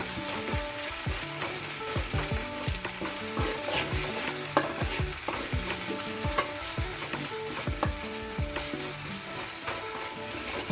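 Garam masala frying in a pan for a small-fish curry, a dense crackling sizzle with repeated rhythmic scrapes of a stirring spoon against the pan throughout.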